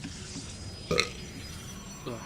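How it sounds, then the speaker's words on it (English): A single short burp from someone commentating a StarCraft match at an MLG Dallas tournament, close to the microphone, with faint voice sounds before and after it. "Excuse me, I have to burp here."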